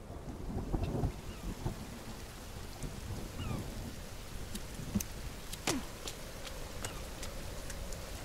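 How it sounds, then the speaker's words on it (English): Rain pours steadily through a forest in The Forest video game, with low thunder rolling near the start and a sharp crack midway before the downpour continues alone. "Thunder."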